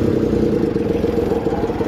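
A tractor engine chugs loudly and steadily up close as the machine reverses, a continuous throbbing rumble with no pauses.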